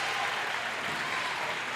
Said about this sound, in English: Fans who made the trip down from Bessemer stand up to applaud their team.